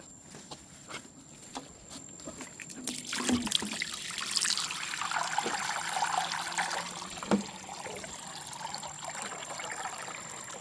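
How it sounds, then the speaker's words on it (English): Water pours from a plastic watering can bought at Lowe's, a soft continuous trickle and splash that swells in the middle and then eases, heard fairly faint outdoors with light clunks of handling. "this is the water can I got from Lowe's"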